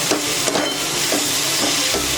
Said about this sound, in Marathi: आता व्यवस्थित सर्व मिक्स करूया.